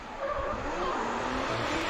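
A drift car at Sportsland Sugo starts its Formula Drift Japan qualifying run, engine roaring and tires screeching in a continuous loud skid with a rough, unhealthy-sounding motor.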